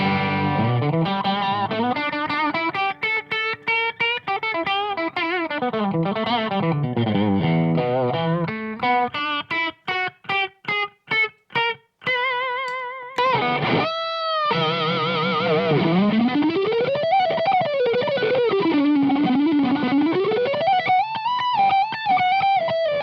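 Electric guitar through a Marshall Code 50 preamp with cab simulation and the power amp switched off, heavily effected and distorted, playing sliding bent lines, a run of choppy staccato stabs and a sudden burst, then wavering sustained notes, loud and unaccompanied.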